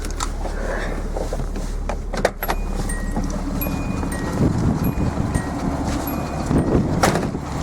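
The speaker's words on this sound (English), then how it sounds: "power steering tensioner likes to make a little noise" An idling Datsun 280ZX Turbo engine hums steadily while a faint mechanical whine and scattered light clicks and ticks come from the power steering tensioner under the hood.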